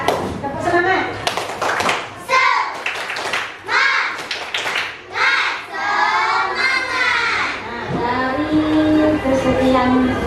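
Schoolchildren in an Indonesian primary classroom doing the 'tepuk semangat' rhythmic clapping chant, with bursts of patterned clapping mixed with loud chanted voices filling the room.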